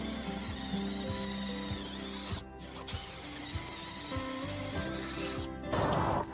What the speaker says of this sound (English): Change the drill to 7mm and drill the outer plate to 7mm.